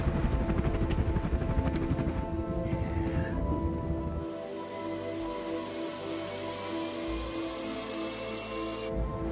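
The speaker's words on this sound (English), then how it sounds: "It's an Indian Air Force drone." An Indian Air Force drone flying over a cornfield, heard as a steady mechanical hum and drone with a broad airy rush, continuous and fairly loud throughout a film scene.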